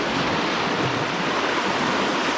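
Ocean waves crash against the rocks at Enoshima Island in a continuous, close, churning roar of surf and spray.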